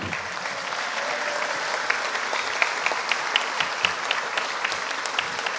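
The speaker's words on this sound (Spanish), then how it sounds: "Un fuerte aplauso, por favor, para él." Audience applause in a Mexican state legislative chamber in Quintana Roo, steady and dense throughout, with scattered sharper claps standing out from the continuous clapping.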